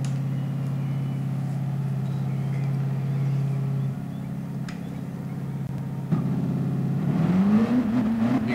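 A Ford GT engine races in GT Sport at Interlagos in an online race, holding a steady loud drone before revving higher near the end, with no talking over it.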